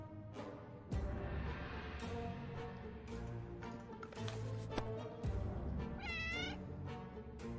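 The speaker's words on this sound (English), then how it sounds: "The cat." A cat meows in the survival game 60 Seconds Reatomized, a rising, wavering call that stands out near the end over the game's quiet music and background sounds.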